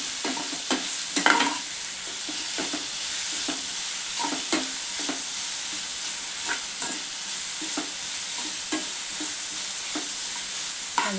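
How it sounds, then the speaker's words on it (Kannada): Salted meat fries in a pan for village-style biryani, a continuous sizzle overlaid with repeated scraping stirs at an uneven rhythm, close and clear with no voices. "ಇದೊಂಚೂರು ಫ್ರೈ ಆಯಿತು."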